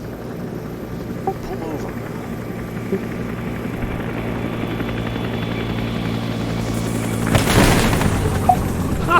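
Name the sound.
helicopter in a video game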